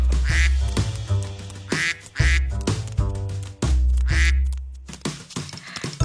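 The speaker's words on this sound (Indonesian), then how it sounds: "Setelah lihat bebek bilang, kuek" Duck quacks ring out in a lively Indonesian children's song, several bright quacks repeating in rhythm over bouncy musical backing with no talking.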